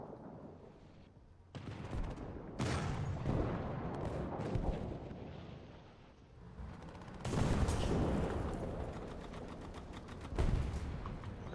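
Gunfire and heavy booms in the War Thunder combat game: dense, roaring bursts of shooting and blasts come in long waves with short lulls, fairly loud and sustained.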